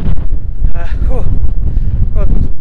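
Strong wind buffeting a microphone at West Beach, Littlehampton, a loud continuous low rumble and roar throughout, with a voice talking over it.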